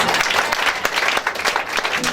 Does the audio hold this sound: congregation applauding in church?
yes